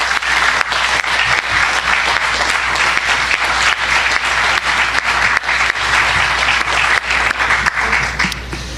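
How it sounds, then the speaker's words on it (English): Loud, continuous applause from a convention audience at a civic awards ceremony, many hands clapping in a thick, unbroken roar close to the microphone that carries on for several seconds before tapering slightly. "But let's have a round of applause for Congressman Walter Jones."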